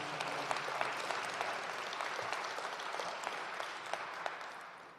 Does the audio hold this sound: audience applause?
yes